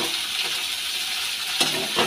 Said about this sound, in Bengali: একটু নাড়া দিয়ে দিই